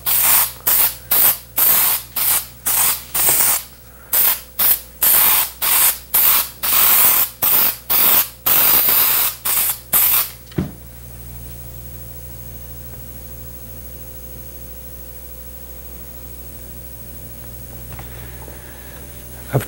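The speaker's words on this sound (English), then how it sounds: "I'll spray on a light coat of adhesive to both surfaces." Short hissing bursts of spray adhesive from an aerosol can repeat in a quick, uneven rhythm for several seconds, then stop, leaving quiet room ambience.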